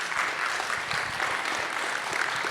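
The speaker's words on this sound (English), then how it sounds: "another round of applause" Audience applause at the close of a FinOps conference session, a steady dense wash of many hands clapping that fills the whole stretch at even loudness.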